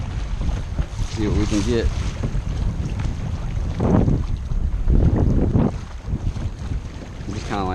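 A small boat trolls slowly, about 1.5 to 2 miles per hour, toward the jetties by the old pier near Fort Clinch, its steady motor drone mixed with wind buffeting the microphone while people talk over it.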